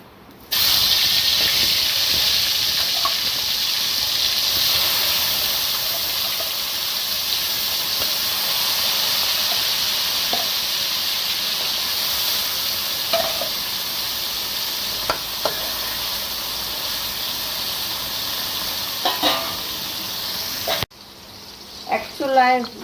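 Oil heating in a wok before frying fish, a steady bright sizzle and hiss filling the background for about twenty seconds, with scattered small pops and clinks of utensils, ending with a brief pause and faint stirring.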